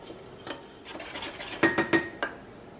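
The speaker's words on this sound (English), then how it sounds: "Just going to cook the roux out." A metal utensil stirs a roux in a pan over lowered heat on a kitchen stove. It makes soft scraping strokes and a few sharper clinks against the pan near the end, close and fairly quiet.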